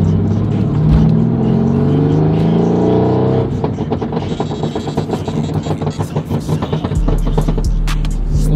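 A twin-turbo SRT 392 race car engine revs hard and loud, pitch rising and surging, then shifting into rapid rattling bursts as it accelerates close by.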